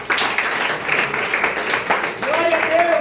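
A church congregation applauds for Jesus, brisk clapping held at a steady level while voices speak over it, loud and close throughout.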